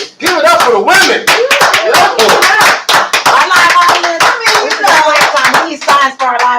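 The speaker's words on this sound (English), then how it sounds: "Give it up for the women." A live comedy show audience applauds loudly, dense rapid clapping that runs throughout, mixed with voices shouting and cheering over it.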